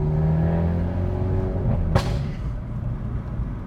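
Hyundai Elantra N fitted with an SXTH midpipe and downpipe, its engine and exhaust droning steadily from inside the moving car, with a sharp thump near the middle and a continuous low rumble throughout.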